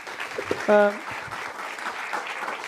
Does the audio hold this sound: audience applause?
yes